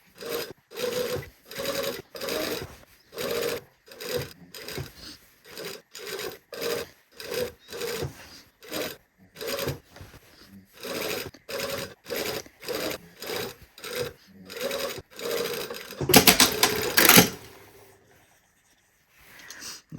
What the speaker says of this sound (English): sew around the neckline